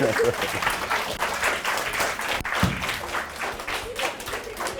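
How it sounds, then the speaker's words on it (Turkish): A crowd applauds steadily throughout at a primary school drama event, a dense wash of clapping that continues at an even level without pause. "Alkışlıyoruz."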